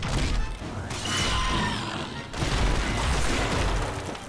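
Weapons fire in the Star Trek (2013) video game, a dense, continuous barrage of blasts and crashes running through the whole stretch with a brief dip midway, loud and layered over a game soundtrack.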